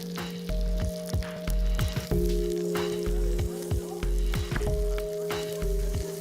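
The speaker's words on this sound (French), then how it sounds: "Je vais maintenant les placer dans ma poêle" Sliced apples frying in butter in a pan, giving a steady close sizzle with a low rhythmic thumping underneath and a few clinks from stirring, no voices.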